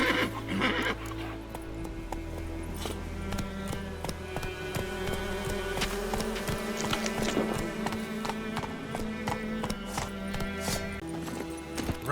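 Roach the horse galloping in The Witcher 3, rapid rhythmic hoofbeats with a clear neigh, steady and fairly loud against game ambience.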